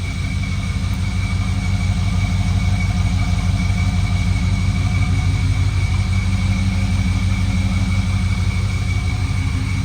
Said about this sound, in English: Let's give a listen to the engine while it's running, and listen to the tailpipes too while we're at it.